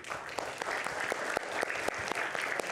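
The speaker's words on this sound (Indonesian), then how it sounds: "Kita berikan tepuk tangan untuk Bung Pitra Romadoni." Studio audience applause for a guest on an Indonesian talk show, a steady wash of many hands clapping throughout.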